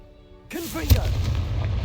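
A Confringo fire spell blasts off in Hogwarts Legacy, a sudden booming burst with a loud crack near its peak, then a sustained rumbling roar of flames and debris that holds steady to the end.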